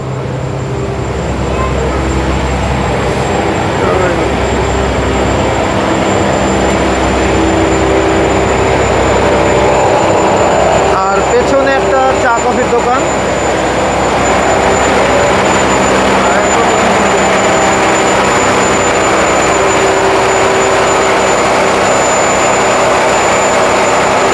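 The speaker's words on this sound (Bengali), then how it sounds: "লঞ্চ চলে আসলো" Passenger launch arriving at a ferry ghat on the Narayanganj–Chandpur river route, a loud steady engine drone with a thin high whine running throughout, rumbling close by the whole time.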